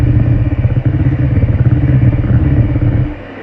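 An electric mixer whisks meringue as cubes of butter are beaten in for a coffee cake, a loud, steady motor drone with a rattling edge that cuts out just before the end.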